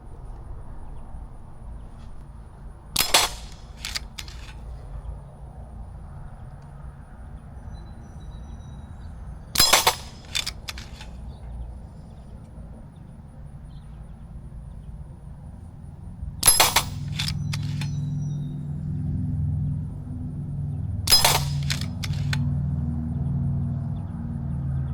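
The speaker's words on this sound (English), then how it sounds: "Try some shooting offhand at these silhouette targets by RX Target Systems." A pump action air rifle fired offhand at silhouette targets at a range, four sharp isolated shots spaced several seconds apart, with faint metallic target pings after some, over a low steady background rumble.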